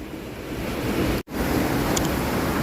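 Floodwater on the Li river rushes past in a loud, steady roar, close to the microphone. A brief dropout breaks the sound in the middle, and a faint high tick comes later.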